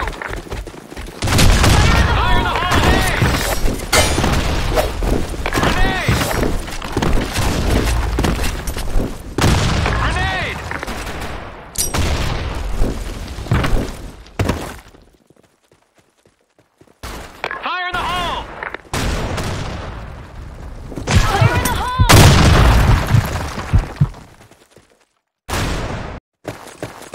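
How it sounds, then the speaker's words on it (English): Grenade blasts and gunfire from the shooter game Blackshot boom and crack in loud bursts, with heavy explosions and rapid shots separated by short silent gaps, while game voices call out over the action. "Fire in the hole! Fire in the hole! Grenade!"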